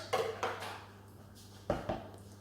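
Oaty biscuit ingredients are mixed in a bowl with a few distinct clinks and scrapes of utensil against the bowl, spaced irregularly over a faint steady hum.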